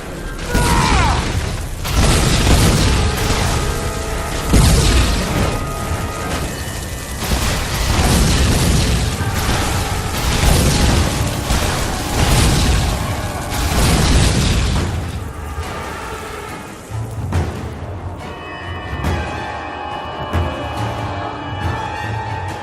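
Fire barrels exploding in the video game Lord of the Rings: War in the North, dense rumbling booms and crashes layered over battle noise for a long, loud stretch, easing into quieter ringing tones near the end.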